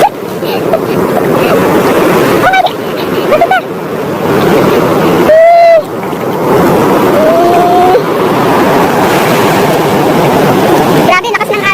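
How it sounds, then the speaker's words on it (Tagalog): Strong sea waves crash and wash at Azaiba Beach in Muscat, Oman, heard close with heavy wind buffeting the microphone, while people talk and shout nearby. "Grabe, lakas ng alon guys."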